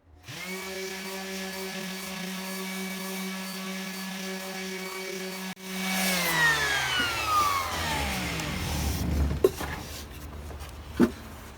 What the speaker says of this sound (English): we're going to come in with the rigid random orbital sander, and we're going to finish off the roughness very quickly